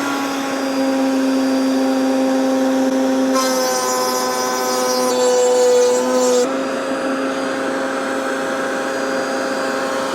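A router trimming an assembled wooden window frame: a loud, steady high-pitched motor whine throughout, rising into a harsher, brighter cutting sound for a few seconds in the middle before settling back to the free-running drone.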